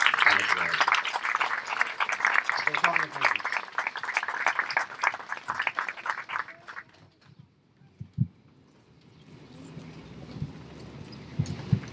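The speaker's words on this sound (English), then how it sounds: "can everyone give a round of applause for our teachers for student promotion." Applause for teachers at a 2021 school graduation ceremony, a broad wash of clapping from a gathered crowd that fades out after several seconds, leaving quiet room sound with a few faint knocks.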